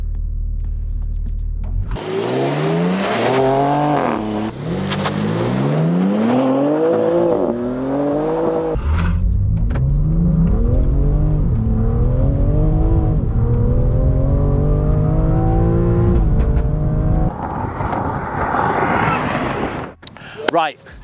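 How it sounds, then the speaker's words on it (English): A stock BMW G80 M3 launches hard on a drag run, its engine revving through rising gear sweeps with sharp shift breaks, loud and close, continuous for most of the run before easing off near the end. "that's the M3's first stock run"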